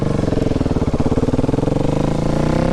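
A 2019 KTM 690 Enduro R single-cylinder motorcycle engine revving while being ridden, loud, close and steady with a rapid throbbing pulse throughout.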